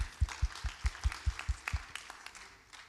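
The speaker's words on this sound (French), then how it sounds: "On applaudit" A short burst of audience applause at a round-table conference, sharp claps in a brisk regular rhythm that thin out and fade after a couple of seconds.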